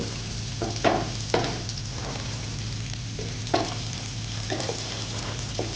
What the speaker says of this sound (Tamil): வெண்டைக்காய் ஷாலோ ஃப்ரை பண்ணி எடுக்கணும்